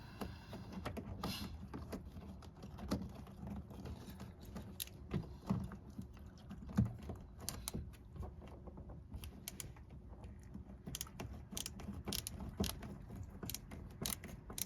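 Bolts being loosened on the door mirror of a Mercedes 220CE W124 coupe, with a steady run of small metallic clicks, ratcheting and creaks close by at low level, no talk.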